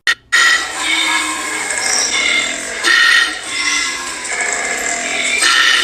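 A koala's harsh, rasping bellow with loud grinding pulses, rough and continuous, rising and falling in bursts close to the listener.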